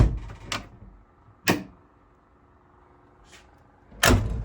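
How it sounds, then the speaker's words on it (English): Several sharp car door sounds on a 1971 Chevelle Malibu, a latch click and thump, spaced apart, with faint mechanical hum between them and no talking. "Open the door."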